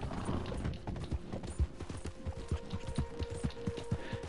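Rhythmic clip-clop of horse hooves in the video game Red Dead Redemption 2, a steady trotting beat of distinct thuds, close and moderately loud, with no speech over it.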